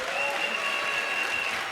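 A church congregation applauds together in a dense, steady wash of clapping that stays even and loud throughout the brief burst, with no talk over it.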